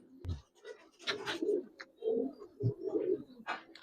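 A pair of pigeons, one a young female, coo close by in soft, throaty phrases with short pauses between them, with faint wing or movement sounds.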